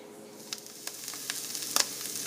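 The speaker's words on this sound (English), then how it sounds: "now they're being fried on high heat in just a little bit of butter" Oyster mushrooms sizzle in a little butter over high heat, a steady hiss broken by sharp spits and pops that grow more frequent toward the end, close and fairly quiet.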